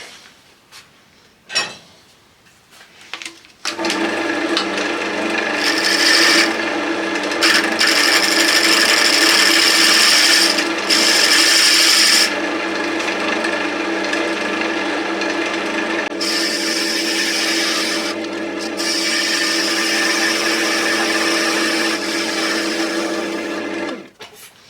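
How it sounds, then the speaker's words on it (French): A skew chisel makes a smoothing cut on wood spinning on a lathe for a wooden pencil pot, a loud steady scraping rasp over the lathe hum after a few faint knocks, ending abruptly. "je vais faire une coupe, pareil, à la plane pour lisser tout ça"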